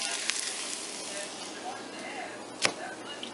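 Eggs frying in a pan, giving a steady, moderate sizzle up close with a few sharp clicks and one louder knock near the end.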